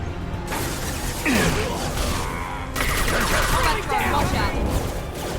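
A Mass Effect 2 firefight near a conveyor line fills the scene with dense, continuous gunfire and mechanical clatter, loud and close, with voices speaking over the chaos.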